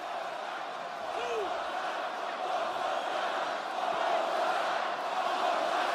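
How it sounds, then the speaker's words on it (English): A packed wrestling arena crowd in London at a WWE match between Randy Orton and the Miz chants and roars in a steady, loud, continuous wash of voices. "One more time is the call from the crowd."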